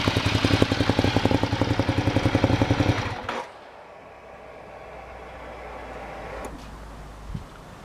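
A Ducati motorcycle fitted with an SC Project decat exhaust runs with a loud, rapid, pulsing beat for about three seconds, then cuts off abruptly, leaving only quiet room tone with a faint bump near the end.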